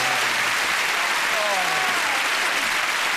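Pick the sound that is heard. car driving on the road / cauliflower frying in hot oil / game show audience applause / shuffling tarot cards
game show audience applause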